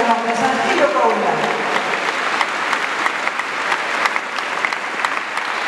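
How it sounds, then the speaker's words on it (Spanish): Strong applause rises from a crowd honoring a standout mother at a recognition ceremony in Torreón, Coahuila, a dense continuous wash of clapping with voices briefly audible at the start. "Un aplauso fuerte para esta mamá fuera de serie 2016"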